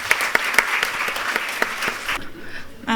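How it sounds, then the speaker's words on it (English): Loud applause from a room full of medical and dental students, with a few sharp claps standing out, cutting off near the end. "Huge round of applause to everyone."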